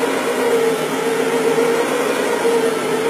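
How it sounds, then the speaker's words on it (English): A Brush Pro machine with two counter-rotating brushes removes dry soil from an oriental area rug, giving a steady, loud motorized whir with a constant brushing hum throughout, no talk. "Use our brush pro for dry soil removal. It's got two counter rotating brushes"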